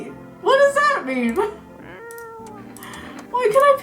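A cat in the video game No I'm Not a Human gives loud, close, drawn-out meows, first at the start and again near the end, with a speaking voice heard between them.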